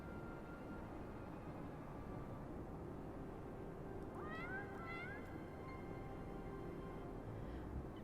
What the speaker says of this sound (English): oi cat, are you Schrödinger